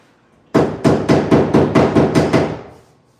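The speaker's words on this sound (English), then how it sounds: "Hammer." A hammer strikes eight times in a steady rhythm, loud and close, each blow sharp and ringing, the last few fading slightly before silence; heard on a painting and drywall job.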